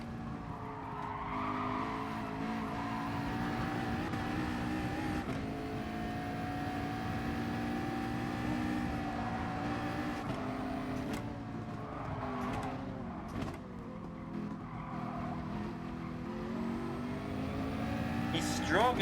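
A Nissan GT-R race car in Gran Turismo Sport drives a warm-up race, its engine a loud, continuous droning whine that rises and falls with gear changes, with tire squeal through the corners.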